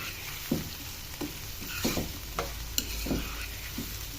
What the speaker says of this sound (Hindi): अब हम इसको सॉफ्ट होने तक पकाएंगे